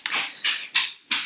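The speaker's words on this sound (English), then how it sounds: "you can probably hear my dog walking in the background." A dog whimpers and huffs in about four short, breathy bursts close by, with no one talking.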